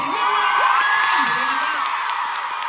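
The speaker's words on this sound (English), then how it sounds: "Please, big round of applause" A crowd of fans at a Louis Tomlinson Q&A in London's PRYZM club cheers loudly, with high whoops and screams rising and sliding over a continuous, close roar of voices.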